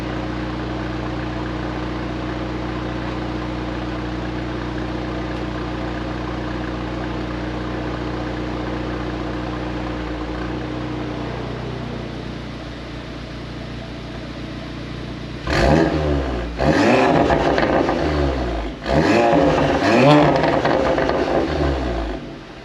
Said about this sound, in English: Rev it a couple times, see what it sounds like when getting rev.